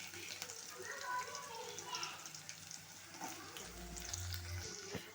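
Finely chopped onions frying in a pan for egg podimas, a soft steady sizzle with faint stirring, while a person talks over it.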